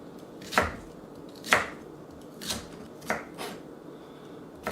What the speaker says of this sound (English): So just slice up the kohlrabi.